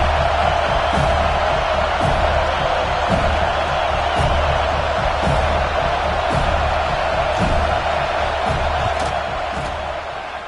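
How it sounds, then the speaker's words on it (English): A football stadium crowd roars during a long field goal attempt in a Notre Dame versus Florida State game, a dense sustained wall of cheering and shouting with rhythmic pulses of noise, fading slightly at the end. "This crowd trying to do its part to get inside the kicker's head"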